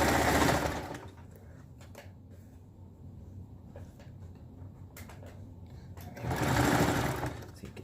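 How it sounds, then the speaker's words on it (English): Sewing machine stitching through the thick gusset seam of a jersey leotard, two loud close whirring bursts at the start and end with quieter handling and shuffling between. "your sewing machine should be strong enough to sew straight through that"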